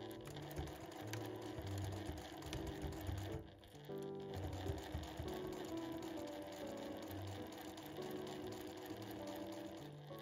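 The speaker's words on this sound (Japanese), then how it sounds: "5ミリで縫っていきます。" A sewing machine stitches a flap onto a fabric tote bag with a 5 mm seam allowance, making a close, rapid mechanical chatter that pauses briefly partway through and then resumes steadily.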